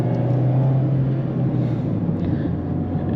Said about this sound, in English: Let's see if we downshift a little bit here to second.